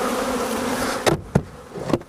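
Honeybees buzz around hives at Indian Summer Honey Farm, a steady droning hum close by with a few louder passes as single bees fly near, no voices present.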